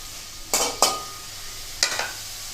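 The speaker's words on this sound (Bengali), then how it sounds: "কুচি করে নিয়েছিলাম পেঁয়াজের টুকরোগুলো, সেইগুলো আমি ভেজে নিচ্ছি।" Chopped onion frying lightly in a pan for a Bengali mutton and potato curry, stirred in three short scraping strokes over a faint background sizzle, close and fairly quiet.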